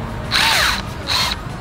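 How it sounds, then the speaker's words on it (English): A power drill bores into bamboo in two short, close bursts, each a high, whining spin that ramps up and then stops, with a brief pause between them. "I put 2 sticks and I drill them into the side of the bamboo like that"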